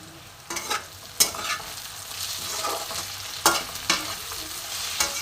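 Sliced onions frying in oil in a pan for a Bengali mutton curry, a steady sizzle broken by a few sharp scraping stirs of the spatula, close and alone with no talk.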